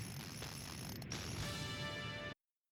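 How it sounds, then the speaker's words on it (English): A socket wrench spun backward makes a continuous, dense ratcheting whir as a sound effect for a retro anime, loud and close, running steadily for a couple of seconds before cutting off abruptly into silence. "They've got a socket wrench and they're spinning it. Spinning it backward."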